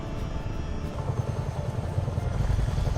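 Chinook helicopter in Microsoft Flight Simulator 2024, a heavy continuous rotor thump and engine drone with a pulsing low-end beat, steady and close throughout.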